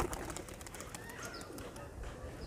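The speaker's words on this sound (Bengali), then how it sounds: "তো গাইজ চলো কবুতরটিকে রিলিজ করে দিই।" Madrasi pigeon released outdoors during flight training, with soft cooing and a few short calls over a low outdoor background, fairly near.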